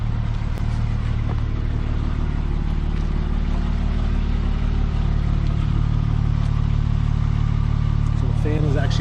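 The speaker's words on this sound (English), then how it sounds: "I'll let you listen to the engine" The engine of a 2003 Porsche 911 Turbo idles steadily with a dense, even rumble and a constant mechanical whir close by, holding level throughout with no revving.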